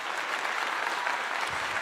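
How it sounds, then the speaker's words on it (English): Audience applause after a college football game analysis session, a steady burst of clapping from a crowd for just under two seconds, fairly even and moderately loud with no talking. "Let's give him a clap."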